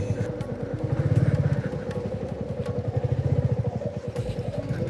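A motorcycle's engine chugs in a steady, rapid rhythm near Darjeeling, on a mountain ride to Bijanbari and Majidhura. It stays close and fairly loud throughout, with no talk.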